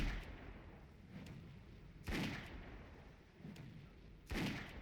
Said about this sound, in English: it doesn't really sound like a cannon. It sounds more like a gun.